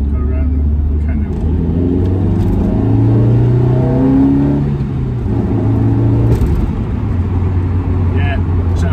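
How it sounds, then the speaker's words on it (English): A loud MGF car engine hums and revs up and down with a throaty intake sound, steady and close, while people talk over it. "Makes lovely, lovely induction noises."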